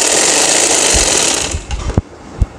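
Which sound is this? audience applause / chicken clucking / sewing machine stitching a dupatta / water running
sewing machine stitching a dupatta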